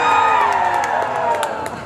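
An audience at a Disney California Adventure story-time show cheers and whoops loudly, a burst of excited crowd voices with scattered claps that fades slightly over two seconds.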